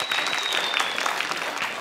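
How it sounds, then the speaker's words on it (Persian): Steady applause from a studio audience at a game show as the next contestant is called up. Many hands clap in a dense, even patter that stays at full volume, and no one speaks over it. "بیا تشویق کنید دوستا ابراهیم جانه"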